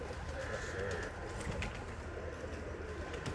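Soft repeated cooing of a golden pigeon on a rooftop over a constant background rumble, gentle throaty calls rising and falling without any talking.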